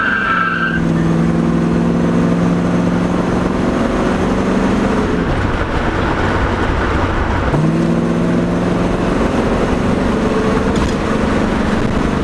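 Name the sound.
Pontiac Trans Am classic car chirping tires and accelerating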